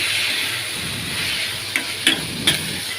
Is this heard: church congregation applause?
no